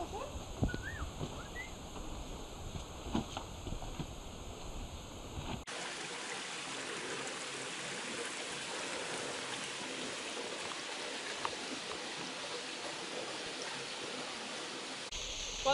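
Steady broadband rush of a waterfall, Little Terrace Falls, fills the scene, constant and fairly close, with a few faint birdcalls and rustles before the roar settles in.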